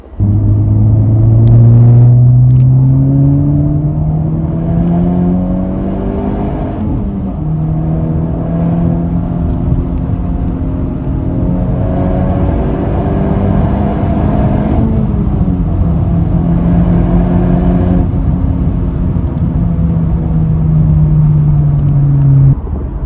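A Honda Civic Type R accelerates hard, its engine climbing in pitch through several rising runs with brief drops between them as it shifts. The loud, continuous engine note stays up close throughout, with no talking.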